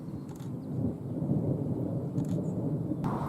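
Thunder rolls through a thunderstorm in France, a long low rumble that stays loud and sustained throughout, with faint crackles over it.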